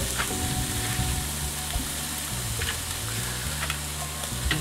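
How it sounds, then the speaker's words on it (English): Courgettes sizzle on a hot Weber barbecue grill in a constant, close crackle, with a low hum underneath and occasional light clatter as the pieces are placed. "Plonk these courgettes on around."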